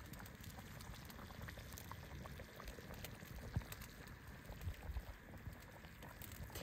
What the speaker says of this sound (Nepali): हाम्रो सुप उम्लिसकेको छ